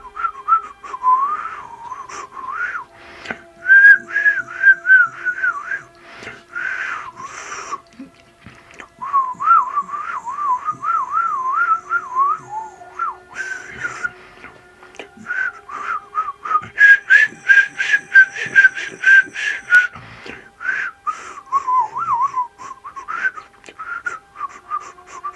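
A person whistles imitations of bird song in long melodic runs of warbling trills and quick chirps, broken by short pauses, loud and close with nothing else heard.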